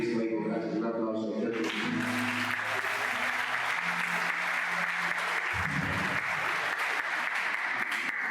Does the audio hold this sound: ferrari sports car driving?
no